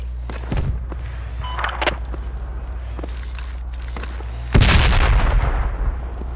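Gunfire in Project Reality v1.3 on the Nuijamaa map near a gas station: sharp shots crack over a steady low rumble, followed by a heavier, booming blast, fairly close and without speech.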